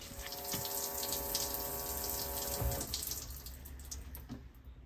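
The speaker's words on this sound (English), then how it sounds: "I hear fuel leaking out everywhere." Fuel spraying and trickling from a perished hose near the fuel filter on a Land Rover Discovery, the pump switched on: a steady close hiss and splatter of liquid with a faint electric whine, continuous and fairly loud.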